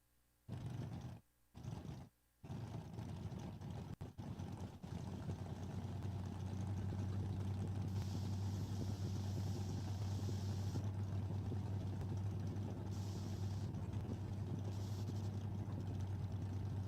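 A 1971 Plymouth Duster runs at a drag strip, heard as a few sharp bursts of engine noise early on, then a sustained loud roar and drone that continues to the end.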